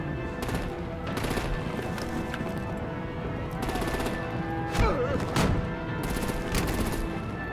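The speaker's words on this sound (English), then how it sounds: "Break out the artillery and disable their vehicles!" Repeated bursts of rapid gunfire crackle in a Batman video game scene, several volleys with sharp impacts and pauses between them, mixed with game sounds and occasional voices.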